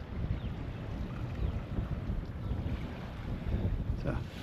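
Steady wind rushing and buffeting across the microphone aboard a sailboat off the Maine coast near the entrance to Somme Sound, with faint water wash underneath and no clear talk.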